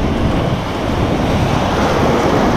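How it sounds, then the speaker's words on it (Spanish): Ocean waves roll at Pipa beach in Brazil, a steady loud wash of surf mixed with heavy wind buffeting the microphone, continuous with no voices. "Las olas que hay son tremendas."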